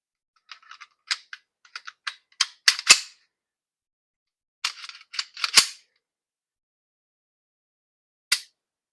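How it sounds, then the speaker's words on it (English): Trigger clicks and resets on a Palmetto State Armory Rock 5.7 handgun fitted with an Eden Perfection flat trigger during a function check: a series of sharp, close mechanical clicks in quick clusters, then a pause and a final lone click. "So we have good click there, good reset, good click."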